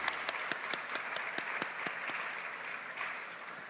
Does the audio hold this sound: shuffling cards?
no